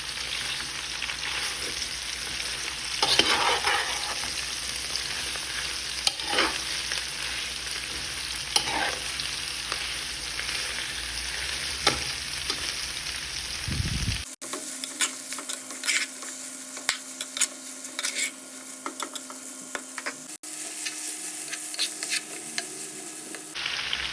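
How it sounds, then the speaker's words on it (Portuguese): Rice for arroz carreteiro frying in a pot as it is stirred, a soft continuous sizzle broken by repeated scraping stirs, with a sharp change in tone partway through, and no talking. "Eu vou mexer agora aos poucos para ela fritar bem"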